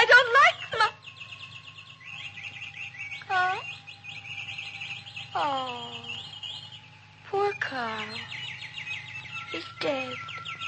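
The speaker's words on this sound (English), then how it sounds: "Those birds, I don't like them." Caged birds chirp and tweet in bright, repeated bursts of sweeping and trilling calls, close by and fairly clear over a low steady hum, with sharper chirps at intervals.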